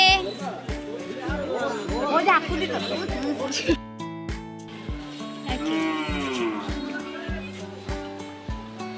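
Several cattle moo repeatedly at a livestock market for Eid sacrifice animals, some close and loud, amid chatter and a busy crowd of voices.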